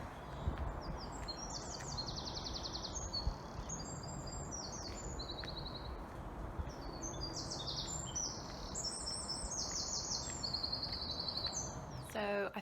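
Birds chirp and sing steadily throughout, many calls overlapping at a moderate distance, during a morning walk past a graveyard, with a low outdoor rumble underneath.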